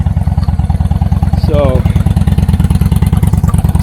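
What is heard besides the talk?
motorcycle engine starting and idling after fuse replacement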